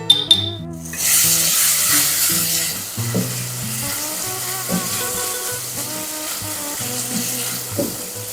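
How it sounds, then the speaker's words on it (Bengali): Olives frying in hot oil with salt and turmeric, a steady sizzle with stirring scrapes, close and clear, over soft background music. "জলপাইটাকে তেলের ওপরে একটু ভেজে নেব"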